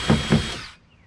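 A power drill punches through a layer of an Old Town Bigwater 132 PDL pedal kayak hull in two quick, close, loud bursts before the whine cuts off into quiet.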